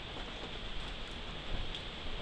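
Heavy rain falls in a dense, constant wash of noise, near and steady throughout, with slight swells in intensity and no talking.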